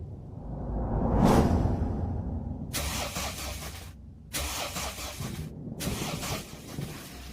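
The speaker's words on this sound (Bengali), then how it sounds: "জিপটা আবার স্টার্ট নিয়ে নেয়।" A jeep starts up as a drama sound effect: a rising whoosh, then engine noise in three bursts separated by brief gaps, loud and close, with no talking.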